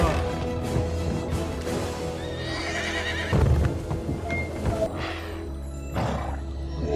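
A horse whinnies amid a film soundtrack, a rising neigh over background score and scuffling effects, with a heavier thud or crash midway through the stretch.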